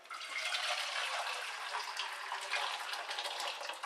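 Reasonably hot water is poured steadily into a pan while cooking sausage egg tomato pasta, a continuous soft splashing rush that stays fairly quiet throughout with no talking.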